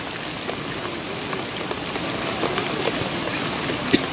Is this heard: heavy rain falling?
yes